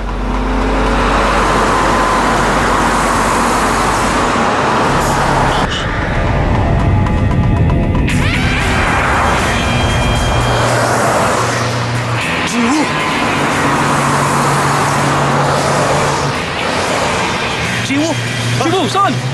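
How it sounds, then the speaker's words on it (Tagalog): A car approaches with a loud engine roar and road noise that builds and shifts, under animated voices talking throughout. "Papalapit dito ang kotse ni Nakamura."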